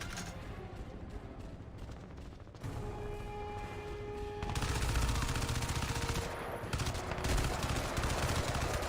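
Sustained automatic gunfire from the Crysis 2 Remastered video game on Switch, continuous rattling bursts that grow louder and denser midway, with faint talk underneath.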